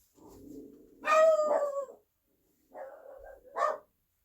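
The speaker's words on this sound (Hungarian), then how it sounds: "Most kezdenek el ugatni a kutyák is." Dogs bark and yelp in short close bursts, a couple of sharp woofs followed by another pair of barks after a brief pause, fairly loud against an otherwise quiet background.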